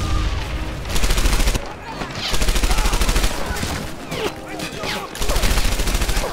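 Rapid volleys of gunfire crackle in dense bursts that stop and start several times, loud and close, with voices calling out between and over the shots.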